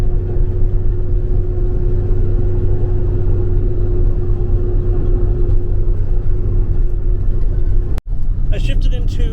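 A Super C motorhome with an Allison automatic transmission drives along a levee road, its engine and drivetrain making a loud, steady, low cabin drone throughout, with one sharp click near the end.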